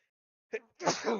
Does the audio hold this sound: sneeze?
yes